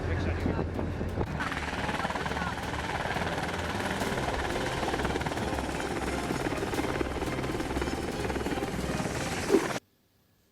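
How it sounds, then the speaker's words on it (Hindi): A military helicopter carrying Israeli soldiers arrives and lands with a loud, continuous rotor thrum and engine roar, partly under a voice. The noise holds steady for nearly ten seconds, then cuts off abruptly. "यहाँ पर एक और हेलीकॉप्टर आता है"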